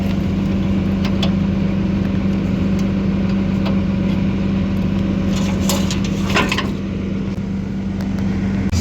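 A tractor engine drones steadily and loud up close while pulling a ground-driven fertilizer spreader, with light rattling and clanking from the chain mechanism over the constant running noise.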